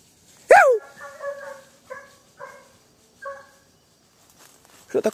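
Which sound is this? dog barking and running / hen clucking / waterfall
dog barking and running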